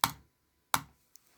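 A Kone Pure Ultra computer mouse double clicks, two sharp, close clicks spaced well apart, then a tiny faint tick.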